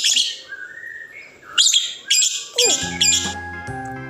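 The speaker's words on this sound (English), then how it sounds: "P for parrot." A parrot gives a string of short, sharp chirps and squawks with brief pauses between calls, close and clear with no other sounds around.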